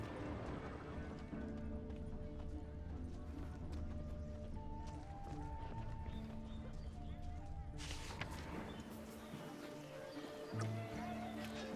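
Hoofbeats of a horse galloping in The Witcher 3 drum steadily under game music, with a brief whinny and a voice speaking over the rhythm.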